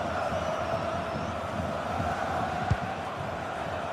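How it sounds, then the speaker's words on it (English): A football video game crowd, annoyed during a Bayern match, murmurs in a constant, fairly distant roar with no distinct cheers and one brief thud partway through. "You can sense how annoyed the crowd are."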